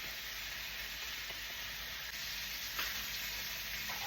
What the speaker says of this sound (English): You put medium to melt your sugar.